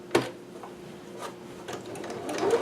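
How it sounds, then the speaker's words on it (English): A home sewing machine runs a short back stitch on a dress made from a McCalls 6701 pattern, giving a quick mechanical whir with a sharp clatter at the start and another burst of stitching near the end, at close range. "I'm going to just do a little back stitch there"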